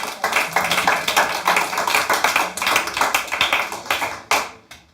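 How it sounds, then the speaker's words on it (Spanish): A church congregation claps together in a sustained round of applause, dense overlapping hand claps rising and falling in waves, fairly loud and close, then tapering off near the end. "Denle un fuerte aplauso a su Señor."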